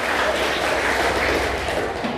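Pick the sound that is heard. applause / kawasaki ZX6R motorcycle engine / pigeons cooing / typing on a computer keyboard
applause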